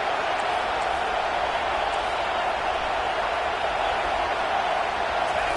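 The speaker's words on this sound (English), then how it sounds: "This crowd bringing the energy and noise early." A football stadium crowd roars in a steady, loud, unbroken wall of noise, with no clear individual voices standing out.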